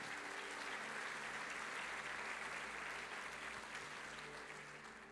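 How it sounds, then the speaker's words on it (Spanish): A large church congregation applauds in a dense, steady roar of clapping that slowly fades toward the end. "Dele un aplauso al Señor."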